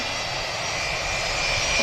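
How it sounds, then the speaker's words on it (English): A Jet2 Boeing 757 taxis out at Manchester Airport, its jet engines giving a steady, fairly distant broadband roar and whine that holds even throughout, with no voices. "Another Jet2 757 on a taxi out."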